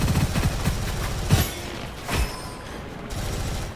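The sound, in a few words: grenade explosion and gunfire in video game Gunfire Reborn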